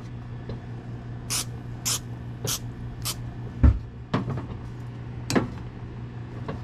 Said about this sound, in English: we are going to take the spray and do one quick layer